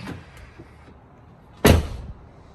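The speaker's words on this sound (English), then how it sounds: "it also sounds much smoother and more elegant when you close the door fully" A Tesla Model Y door fitted with a Hansshow soft-close lock shuts with a single muffled thud partway through, after a quiet stretch.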